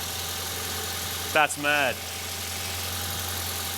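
A turbocharged Toyota Hilux engine idles steadily just after its first start, a constant nearby rumble with a short burst of speech over it.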